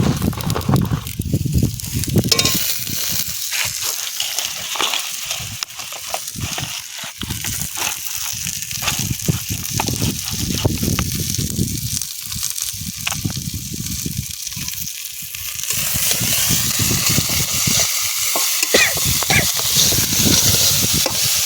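Peas and coriander cook in a thick masala for paneer malai curry, with a loud, close, continuous sizzle and steady stirring scrapes that grow hissier toward the end.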